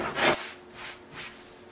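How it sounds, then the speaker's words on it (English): Several short, raspy strokes of a block plane trimming a wooden sailboat's bottom panel, the first loudest, followed by softer repeated passes in a slow rhythm. "taking a block plane and trimming down this bottom panel"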